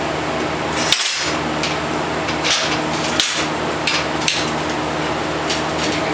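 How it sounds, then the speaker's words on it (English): Steel plates being clamped together before tack welding, with several sharp metallic clanks and knocks spaced irregularly over a steady shop hum, close and fairly loud. "And you can squeeze those plates together."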